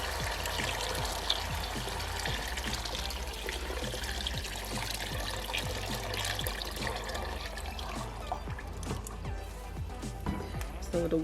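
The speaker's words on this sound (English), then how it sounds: "Now I'm gonna go ahead and add some water." Water pouring and trickling steadily into a cooking pot for jollof rice, a continuous splashing stream that runs on for several seconds.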